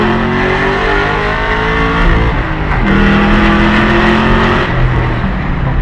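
A car engine fitted with a performance cam revs and accelerates loudly and steadily during a ride, its pitch climbing and holding through several gear pulls with no talking.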